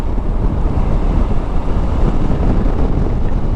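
Steady wind roaring and buffeting against the microphone while riding a CFMOTO 800MT touring motorcycle in southern Australia, a constant low rumble with no letup throughout.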